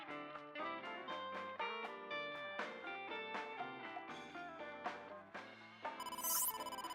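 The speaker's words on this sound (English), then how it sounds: "Yep, phone call." A phone rings in the video game AI: The Somnium Files, a steady tonal ringtone melody of repeated chiming notes playing on for several seconds at low volume, alone without speech.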